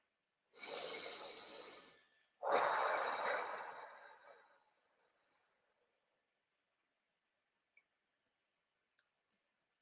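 Two slow, deep breaths taken close up during a guided morning meditation, a long inhale and a long exhale with a short pause between, then near silence broken by a few faint clicks.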